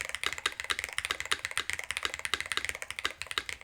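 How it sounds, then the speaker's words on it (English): Steady typing on a DrunkDeer A75 Ultra mechanical keyboard with a loud spacebar, close and rapid clacky keystrokes in an even rhythm, no talking. "it is a nice feeling keyboard. It is a loud spacebar."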